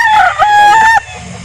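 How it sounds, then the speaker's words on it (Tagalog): A rooster crows loudly and close in one sustained, harmonic call lasting about a second, at a poultry sale in Calauan, Laguna, followed by quieter farmyard background. "Ito mga manok ni Boss Al."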